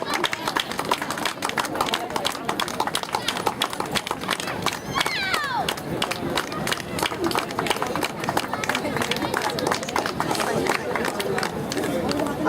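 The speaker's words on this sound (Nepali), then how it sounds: "ताली बजाउनुहोस् न, यति राम्रो काम गर्दैछ खोइ त।" An audience at a community support programme claps steadily for over twelve seconds, a dense, loud wash of many hands with faint crowd murmur beneath.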